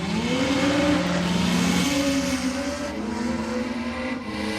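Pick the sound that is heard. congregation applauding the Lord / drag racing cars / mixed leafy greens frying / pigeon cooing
drag racing cars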